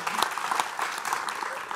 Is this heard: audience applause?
yes